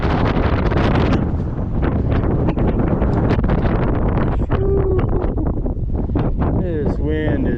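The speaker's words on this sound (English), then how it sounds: "This wind is ridiculous." Strong, constant wind roars and buffets the microphone on a bass fishing boat, with rustling and thumps underneath and a short voice near the end.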